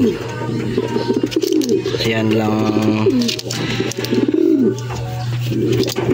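Pigeons cooing close by in repeated throaty, rolling calls over a steady low hum, with someone talking briefly in between.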